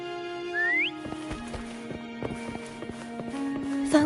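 A whistle rises briefly, then horse hooves clip-clop in a steady trot as the mount approaches in the video game Wuthering Waves, set against sustained musical tones.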